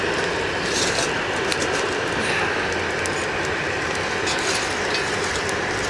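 A cheap secondhand hairdryer bolted to the back of a homemade forge blows air into the fire, making a steady, close, rushing roar with faint rattling clicks running throughout and no voices.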